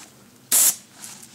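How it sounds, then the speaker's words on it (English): A single short, loud burst of bear spray discharging outdoors on a Wyoming camping trip, a sharp pressurized hiss lasting about a fifth of a second before it cuts off into quiet. "we're practicing our bear spray just in case one of them runs up on us"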